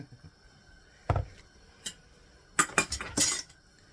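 A utensil knocks and clinks against filled glass jars of home-canned sauerkraut as air bubbles are worked out, with a single thud, a brief tap, then a quick cluster of close, sharp clinks and no talk.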